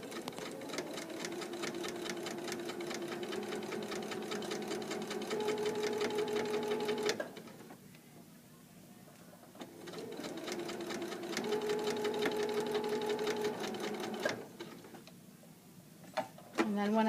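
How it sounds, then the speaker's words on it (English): A home sewing machine stitches fabric along a seam in two steady whirring runs, each ending in a short quiet pause before stitching resumes, heard up close at a low level. "Then I'm going to keep sewing."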